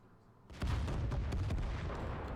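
A tank cannon shot in World of Tanks, a sudden loud boom after a quiet moment, followed by a sustained rumbling roar and scattered crackling debris.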